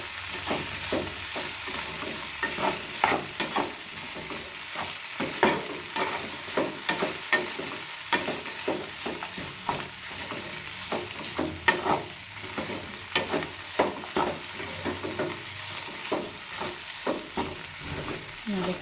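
Avalakki upma (poha) stirred in a pan, with a steady run of scraping, clacking spoon strokes over a soft, continuous sizzle, close and fairly loud throughout.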